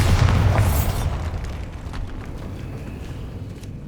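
A loud, deep blast from the Bombarda spell in Hogwarts Legacy hits at the start, then rumbles and fades slowly over several seconds, with no voices.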